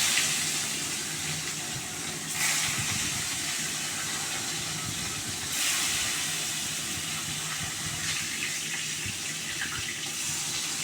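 Salted, turmeric-rubbed fresh fish fry lightly in hot oil with a steady, hissing sizzle that carries on throughout. Brief louder spurts of spattering break through now and then.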